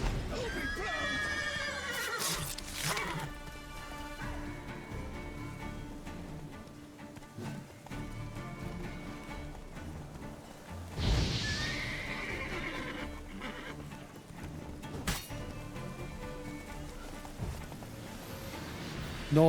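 Horses neigh and whinny several times over a steady background in The Witcher 3, with occasional clatter and bursts, sounding like game audio rather than a live setting.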